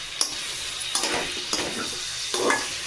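Chicken curry with tomato puree, ground coriander, cumin, turmeric, salt and Kashmiri chilli powder is stirred in a pan: soft sizzling with four or five distinct scraping strokes of a spoon, close and fairly quiet.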